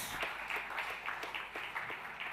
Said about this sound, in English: I think a big round of applause to all our teams